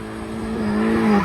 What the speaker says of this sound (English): And this is what drifting is